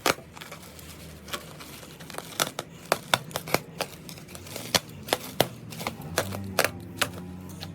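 Sharp snipping clicks repeat irregularly, close and crisp, like scissors cutting through tape or plastic, with faint crinkling between cuts and no talking, during a fuel tank replacement on an F.B Mondial HPS 125cc motorcycle.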